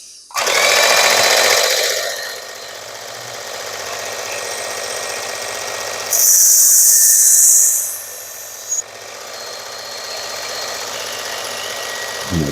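A Work Sharp belt sharpener running a coarse X65 65-micron belt grinds a Rosecraft Otter Creek Barlow pocketknife blade, a steady motor whir with a louder, brighter burst of grinding midway, no talking.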